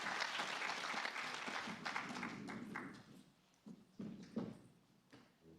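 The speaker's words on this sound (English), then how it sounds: "a round of applause" Audience applause at a workshop panel, a moderate round of clapping that thins and tapers into a few scattered claps.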